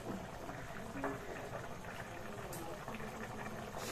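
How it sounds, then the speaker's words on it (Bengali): Egg and brinjal curry bubbling steadily in a pan, a soft continuous simmer with small pops, close and fairly quiet, with faint background noise throughout. "দারুণ খুব সুন্দরভাবে ফুটছে এখন।"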